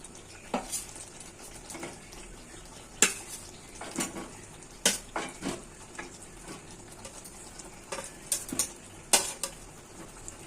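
Fried potatoes tipped into a pan of spice paste for a Bengali egg curry, a metal utensil clinking and scraping against the pan in scattered sharp knocks over a soft, low sizzle, with no talking.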